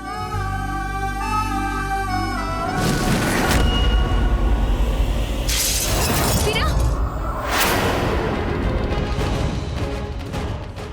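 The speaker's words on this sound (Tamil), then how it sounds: "என்ன திடீர்னு கண்ணாடி உடைஞ்சிருச்சு?" Glass shatters suddenly after a sustained musical tone, with bursts of crashing and tinkling debris followed by a second loud smash, all dramatic and close in a TV drama scene.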